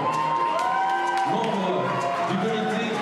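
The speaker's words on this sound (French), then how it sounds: "Et je vous demande d'accueillir s'il vous plaît Jessica, sous vos applaudissements" An audience at the Miss Saône-et-Loire pageant cheers and whoops, dense crowd noise that carries on throughout, with a voice talking over the noise.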